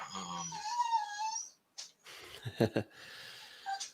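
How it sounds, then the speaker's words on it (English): A dog whines in high drawn-out tones, then gives a few short snorts and huffs, fairly close but quiet, with a brief pause in between and no talk. "Sorry, that's my dog."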